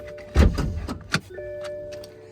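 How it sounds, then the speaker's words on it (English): The hood latch on a Mark 5 Supra is pulled twice, making two close, sharp mechanical clunks about three-quarters of a second apart, followed by a faint, steady electronic chime tone from the car. "Had to pull the latch twice."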